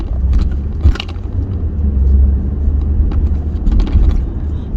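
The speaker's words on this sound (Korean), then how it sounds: "이렇게 쭉 가면서 타이어 소리가 올라오는지 확인 한번 해보겠습니다." Steady low tire and road rumble inside a moving 2016 Audi A6 at 40 to 50, with occasional small rattles and clicks from the cabin.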